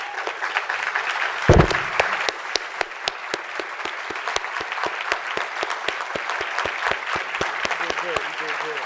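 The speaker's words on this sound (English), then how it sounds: "give the people at SOS a round of applause" Audience at an award ceremony honouring a volunteer breaks into steady clapping, a dense crowd applause with a sharp bump near the start that carries on evenly to the end, without any talk over it.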